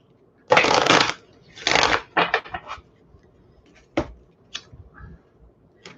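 Oracle cards are shuffled by hand up close: two long riffling bursts, then several shorter flicks and taps that thin out to quiet.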